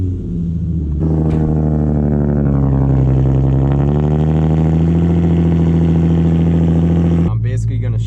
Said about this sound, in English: Let's get that cold start going